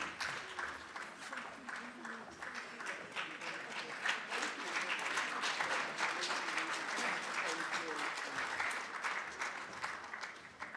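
Sustained audience applause at a conference session marking 25 years of the women, peace and security agenda, many hands clapping steadily for about ten seconds and growing fuller midway, with some voices mixed in.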